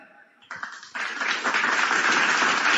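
A crowd breaks into applause that swells quickly and holds steady, dense clapping filling the room after a brief moment of quieter sound.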